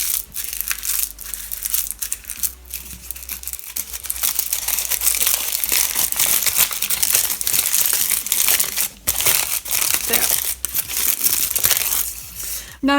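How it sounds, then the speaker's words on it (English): A sheet of paper is crumpled continuously up close to make faux leather, crackling and crinkling for several seconds with short pauses, loud and crisp with no voices. "Crumple the whole thing."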